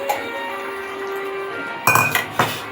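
Fried eggs are lifted from a pan into a bowl: a low steady hum gives way to a few sharp metallic clinks and scrapes of utensil against cookware, close and fairly loud, for an egg curry.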